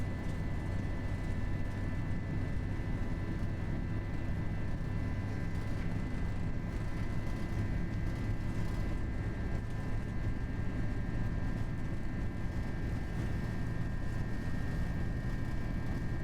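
Jet engines of an FSLabs A321 airliner roar steadily on the takeoff roll in the Prepar3D flight simulator, a continuous dense rumble with a faint steady whine, loud and unbroken throughout.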